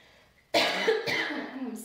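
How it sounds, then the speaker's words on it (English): A single close, harsh cough bursts out after a brief quiet, followed by a second rough cough and some throat noise. "I'm so sorry about the coughing."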